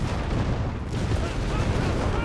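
The main gun of a German Panzer tank fires in Company of Heroes 3, a dense, loud boom of battle sound with rumbling low end and continuous combat noise in a brief burst.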